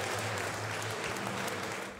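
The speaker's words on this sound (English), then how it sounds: "they walked into the applause of other D.C. jail inmates" Jail inmates in Washington, D.C. applaud fellow inmates walking in wearing caps and gowns for their graduation, a full, sustained round of clapping that stays loud and even before easing slightly at the end.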